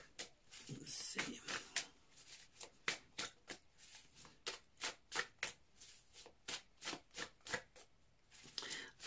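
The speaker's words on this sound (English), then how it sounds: "As I'm shuffling these cards," Tarot cards shuffled by hand in a quiet room, a steady run of crisp riffling slaps and flutters repeating about every half second, close and fairly soft with no one talking.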